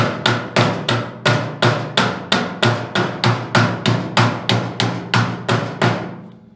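About sixteen steady, evenly spaced hammer taps ring out loud and close, knocking a brush hog PTO shaft off its gearbox shaft, each strike sharp with a short metallic decay.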